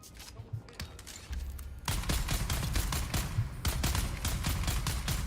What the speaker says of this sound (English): Time to do a bit of shooting.